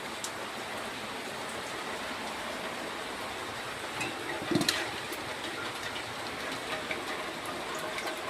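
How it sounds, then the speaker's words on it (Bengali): Rainwater leaks into a house, falling steadily in a continuous hiss like rain pouring and dripping nearby, with one brief sharper splash midway and no voices. "দেখেছো কেমন জল পড়ে"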